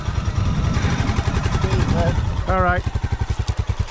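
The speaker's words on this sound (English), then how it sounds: "Royal Enfield. Lovely." A Royal Enfield motorcycle engine thumps past on a Yorkshire Dales road, a steady low rhythmic beat that grows into distinct loud pulses as it draws near, with a person speaking briefly over it.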